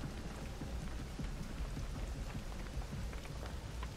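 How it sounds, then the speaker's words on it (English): Steady rain splashing on the ground in the Dead by Daylight video game, a continuous dense patter at low level with no voices. "Y'all see how the rain just like splash on the ground?"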